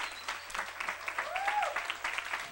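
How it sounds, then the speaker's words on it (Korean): A church youth gathering gives a round of applause, steady and moderately loud clapping for a couple of seconds, with voices and cheering mixed in underneath. "한번 박수를 다민족들에게 한번 진짜 너무"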